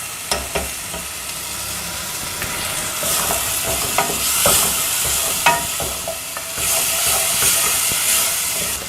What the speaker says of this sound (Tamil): இது ரெண்டும் நல்லா பச்சை வாசனை போகிற வரைக்கும் வதக்கணும்